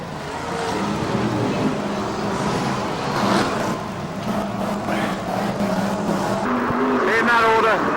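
Formula 1 stock cars racing flat out in a grand final on a short oval, a dense continuous roar of engines with squealing tyres as one car slides its tail out, while a commentator talks over the noise.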